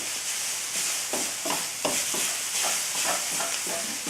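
A spoon stirs a dry mix of smashed beans and walnuts in a hot pan, with rhythmic close scraping strokes about twice a second over a constant sizzling hiss.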